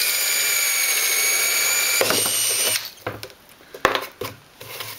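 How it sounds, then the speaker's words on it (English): A power drill whines continuously as it bores into wood, then stops, followed by a few short bursts and clunks of the drill and handling. "start out forward, get the drill bit through"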